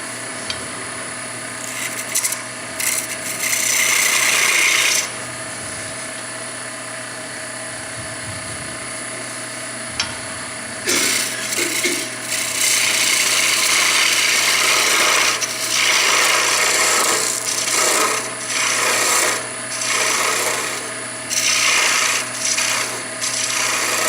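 A skew chisel rotary-peels wood on a spinning lathe, giving a loud, rough, rasping hiss in bursts over the steady hum of the machine, with pauses between cuts.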